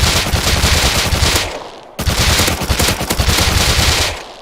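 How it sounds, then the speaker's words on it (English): An MP5 submachine gun in the video game Rust fires two long, loud full-auto bursts, each a rapid continuous rattle, separated by a brief pause. "Now, the Mp5, obviously, it's an SMG, right?"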